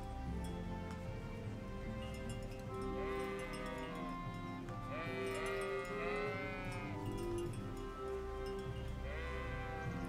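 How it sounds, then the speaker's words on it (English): Sheep bleating in the Kingdom Come Deliverance video game, several wavering bleats repeating at moderate distance over a steady outdoor ambient background. "Trying to herd the sheep."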